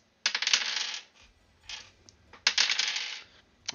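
Dice clatter in three bursts across a hard surface during a tabletop role-playing game session, quiet and close, with a low murmur underneath and no clear speech.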